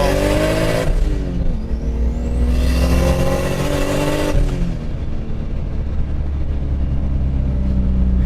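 A Lexus IS300 fitted with a single-turbo 2JZ engine revs hard toward about 7,000 rpm. The engine note climbs in a steady, loud sweep, drops back, then rises again, with a continuous close roar and no talk.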